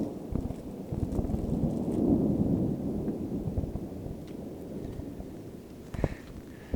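Low rumbling thunder from a passing thunderstorm over a lakeside campsite, a sustained roll swelling around the middle and fading, with wind buffeting and a few sharp knocks near the end.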